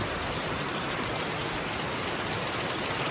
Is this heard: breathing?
no